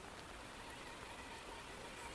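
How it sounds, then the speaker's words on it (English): Rain falling steadily on a wet outdoor surface, a continuous soft hiss of dense drops without pauses, fairly faint and alone. "then rain picks up again"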